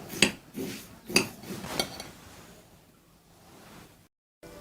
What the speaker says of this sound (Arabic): قلبنا كله مع بعض، الشوكولاته مع السوداني مع الكنافه المحمره